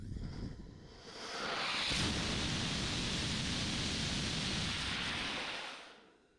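A high-power rocket motor test burn roars as a steady, dense broadband rush that swells up after a softer start, holds loud for about four seconds, then fades out as the motor ends its burn.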